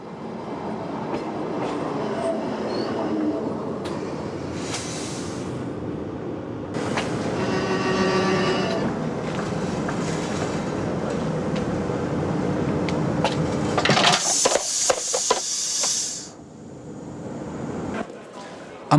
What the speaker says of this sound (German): Dort wird uns noch die automatische Scharfenbergkupplung demonstriert.